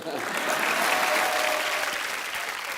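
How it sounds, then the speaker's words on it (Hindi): A crowd applauds loudly and continuously, dense clapping that swells and then fades slightly over a few seconds. "वो आलिया के लिए ताली बजा दो"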